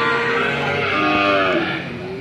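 Cattle moo at the Ambar Ketawang cattle market, with one long, loud, close low call over a steady market din, trailing off at the end.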